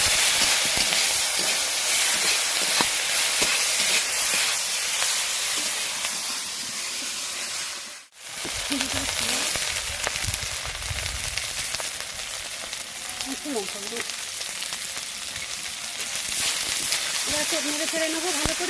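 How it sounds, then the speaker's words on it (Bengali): Ginger-cumin paste with green chili sautéing in a pan, a steady broadband sizzle and hiss that drops out briefly midway, then resumes with faint scraping; a voice talks over parts of it. "আদা জিরে বাটা, দিয়ে দেবো কাঁচা লঙ্কা। একটু ভালো করে কষে নেব।"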